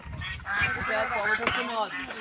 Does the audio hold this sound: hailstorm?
no